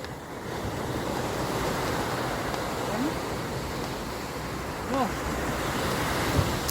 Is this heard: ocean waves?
yes